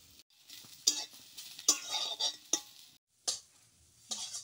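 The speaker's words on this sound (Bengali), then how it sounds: "অল্প তেল দিয়ে শীতল শুকনো মরিচ আর রসুন দিয়ে ভাজা ভাজা করে নিল" Dried chillies and garlic fry in a little oil while being stirred. Sizzling rises and falls in short bursts of scraping, with brief quiet gaps between strokes and no talking.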